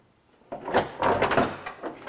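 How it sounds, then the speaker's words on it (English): A hydraulic clamshell tailgate door on a 1966 Suburban Carryall being lowered, giving a few close mechanical thumps and rattles over about a second and a half after a quiet start. "Put the clamshell door down"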